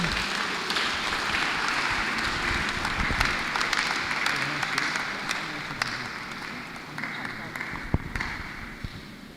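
Worshippers at an Anglican church gathering in Lagos give a round of applause, dense clapping from a crowd that stays strong throughout, with a few sharp individual claps and some voices mixed in.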